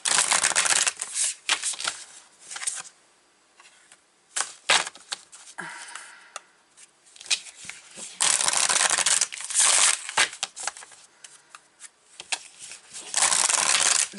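Tarot oracle cards being shuffled by hand, with repeated bursts of crisp riffling and flapping separated by quieter pauses and soft handling clicks, close and fairly loud.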